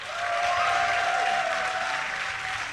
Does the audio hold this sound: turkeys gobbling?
no